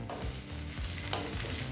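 Sliced bitter gourd (pavakkai) stirred and sautéed in a pan for a Tamil pavakkai fry, a steady low sizzle with soft scraping stir strokes close by, no voices.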